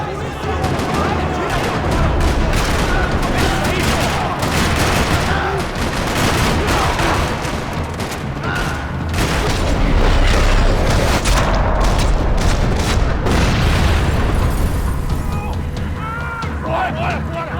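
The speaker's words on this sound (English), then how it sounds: "Another parking lot rattling with gunfire." Dense gunfire rattles through a parking lot in the Max Payne 3 video game, with loud, sustained bursts and booms under occasional voices.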